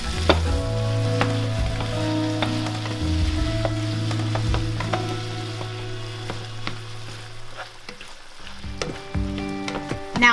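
Lean ground beef sizzles and fries steadily in a pan with onions, a continuous close crackle with occasional stirring scrapes and no talk.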